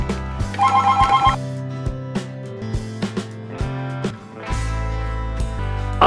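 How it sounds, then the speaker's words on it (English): A telephone rings loudly and alone, a bright electronic bell in short repeated bursts with brief pauses between them. "Oh, it's the phone again."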